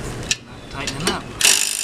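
Ratchet or wrench clicks and mechanical rattles while a fastener is tightened on a tow dolly fender during repair, a few sharp clicks ending in a louder burst of rapid ratcheting, close up.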